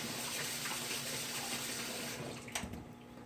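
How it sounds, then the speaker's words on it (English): A faucet runs steadily while hands are washed under it, a soft, close splashing stream with a few brief louder splashes near the end. "let me wash my hands"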